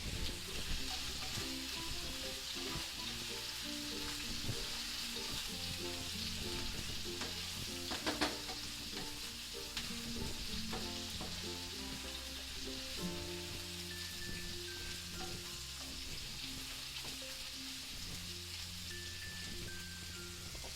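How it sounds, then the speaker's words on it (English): King prawns frying in garlic-infused oil give a constant crackling sizzle, close and steady throughout, with occasional utensil knocks and faint background tones. "I'm now going to transfer my prawns into the garlic infused oil"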